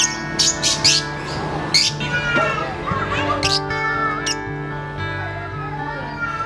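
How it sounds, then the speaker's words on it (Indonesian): Lovebirds at a breeding farm in Mandailing Natal, North Sumatra, chirp and squawk in short, sharp, repeated bursts close by, layered over a busy, steady tonal background. "mendengar suara merdu burung lovebird atau burung cinta"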